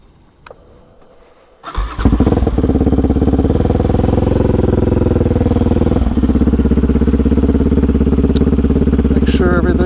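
A Honda TRX 250X ATV engine starts after a quiet moment and settles into a loud, steady close-up running drone that continues right to the end.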